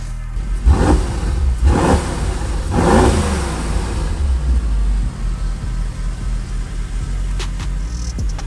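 A lowered Lamborghini Performante engine fires up with a few sharp revs, then settles into a loud, steady idle close by.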